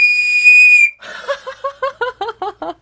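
A small wooden whistle gives a long, piercing steady tone, then a quick run of about nine short warbling chirps, loud and close with no talking.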